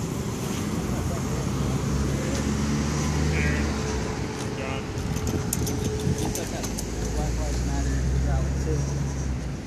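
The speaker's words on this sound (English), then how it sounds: "the sound that you're currently hearing over the traffic is the announcements that are broadcast from that building out the loudspeaker" Steady street traffic roaring close by while faint loudspeaker announcements from an arena building repeat in the background, continuous and fairly loud.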